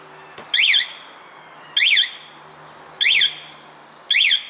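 A Spy 5000M motorcycle alarm sounds short warning chirps after an impact test: four brief bright electronic bursts spaced about a second apart, loud and close, over a low steady hum.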